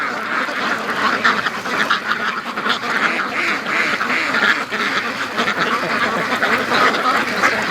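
Free-range ducks quack busily and continuously, a dense, overlapping chorus of nasal calls from a flock close by, with a faint voice calling to them at times.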